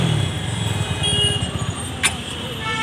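A TVS Apache RTR 200 motorcycle engine idles after starting, a steady low throb under street noise, with a brief sharp click partway through.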